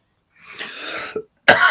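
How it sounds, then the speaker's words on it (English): A person coughs twice, close by: a longer raspy cough followed after a short pause by a second sharp one, with no talking. "I'm just going to have a little cough."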